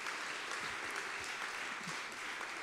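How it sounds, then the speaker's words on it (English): A church congregation claps together in steady, continuous applause filling a large room, with a faint murmur of voices underneath. "the people around Journey are going to clap for you."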